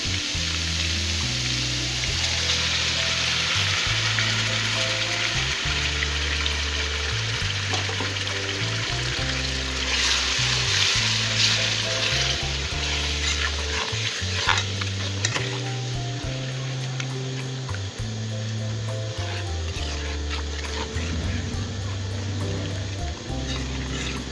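A thick tomato, green chili and onion paste sizzles and spatters steadily in a hot pan, with occasional stirring scrapes and bubbling, continuous and close.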